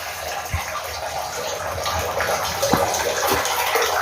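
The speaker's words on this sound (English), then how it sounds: "how there is water dripping on one of the incoming pipes." Meltwater from a snow-covered roof runs and splashes into an incoming pipe of a buried 5-cubic-metre rainwater tank, a continuous close trickle with a few sharper drips, no voices.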